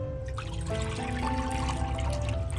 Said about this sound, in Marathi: आता मी ते एक बाऊल घेते आणि या बाऊलमध्ये असं पाणी टाकून घेते